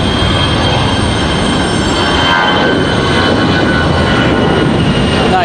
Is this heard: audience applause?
no